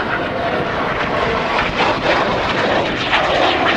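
A Frecce Tricolore solo jet turns through a 360-degree maneuver at an air show, its engine a loud, continuous roar rising and shifting overhead.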